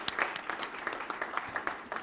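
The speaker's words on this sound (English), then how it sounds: "If you guys could stand and raise your hands and we can all applaud you." An audience at a Do The Right Thing gathering applauds its board of directors with moderate, even clapping, individual hand claps standing out close by within the wash.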